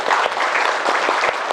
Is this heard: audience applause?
yes